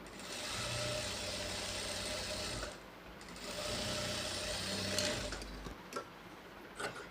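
Sewing machine stitching a shaped blouse belt, running in two steady whirring bursts of several seconds each with a brief pause between, fairly loud and close with no talking.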